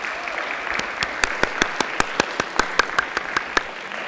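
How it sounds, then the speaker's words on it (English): A room of people applauding at an MFA poetry reading, steady dense clapping with a few sharper individual claps standing out across several seconds, fairly close. "I think that's enough applause"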